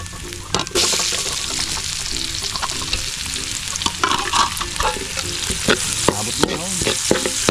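Anchovies fry with garlic in a pan, a continuous loud sizzle broken by repeated scraping stirs and clatters of the utensil throughout, with no talking.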